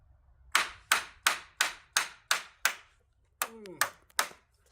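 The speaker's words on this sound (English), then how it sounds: "you do want to know how to learn to pound a nail in" Eight sharp, evenly spaced knocks of a hammer driving an old square nail, then a short pause and a few more blows, one with a brief metallic ring.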